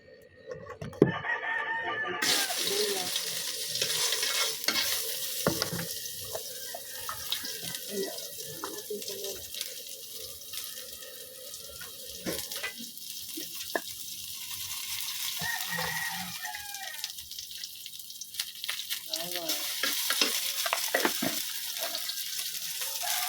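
Cabbage sautéing in oil in a pan for a breakfast of sautéed cabbage and fried fish, a steady broadband sizzle running throughout with clatters of utensils and faint background sounds.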